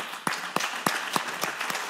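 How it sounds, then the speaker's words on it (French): A congregation in a Protestant Baptist church welcomes newcomers with applause: a handful of distinct, sharp claps at a slow, uneven rhythm over a thin wash of lighter clapping, moderately faint and without talk. "On peut vous applaudir là."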